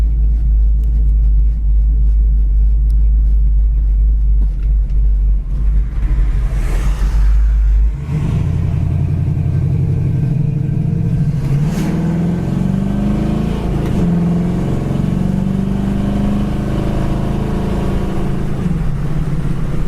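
A red 1971 Chevy Chevelle cruises down the road at about 55 mph, a loud, steady engine rumble with deep low drone and road noise heard from inside the car, the tone shifting as it changes gear partway through.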